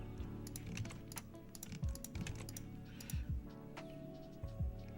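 Quick bursts of computer keyboard typing, sharp clicking keystrokes in uneven clusters with short pauses between, close and clear over a quiet low background hum.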